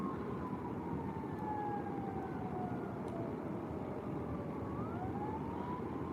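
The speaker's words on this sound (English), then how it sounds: "I don't know if you guys can hear the sirens." Emergency vehicle sirens wailing in the distance beside a fishing spot, faint rising and falling tones over steady outdoor background noise, with no talking.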